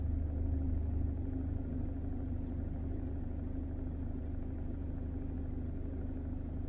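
A Range Rover Classic diesel engine idles at rest, giving a steady low rumble with an even, throbbing beat that holds unchanged throughout, with no talking.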